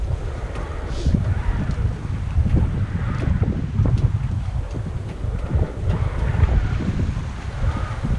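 A Bavaria 32 sailboat under way in wind and swell, with steady wind rush and water washing along the hull, continuous and fairly loud, no talking.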